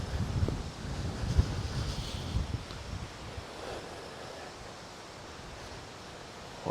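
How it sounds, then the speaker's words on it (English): Strong wind buffets a microphone windscreen outdoors in a cemetery, a low rumbling roar that gusts hardest early on and then eases to a steadier blustery hiss. No one speaks. "It's getting very windy out. Hopefully the mic, the wind screen on the mic is doing its job."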